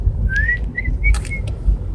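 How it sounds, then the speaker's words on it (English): A person whistles a short rising-and-falling tune of a few clear notes, close by and fairly soft, over a low background hum with brief clicks. "Do you have a special whistle that you'll use?"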